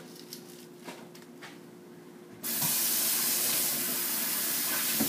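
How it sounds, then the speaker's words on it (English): Tap water bursts on suddenly and runs in a loud, steady hiss into a sink while organic kale is rinsed, after a few quiet clicks and handling sounds. "I am eating organic kales, so I am going to bring some of these out and rinse them off."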